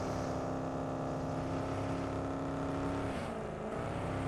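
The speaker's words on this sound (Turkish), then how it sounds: "Burada canavar kamyon var alacaksınız mı?" A monster truck in PUBG Mobile gives off a steady, droning engine hum that holds constant for several seconds before dipping briefly in pitch near the end, with no voices over it.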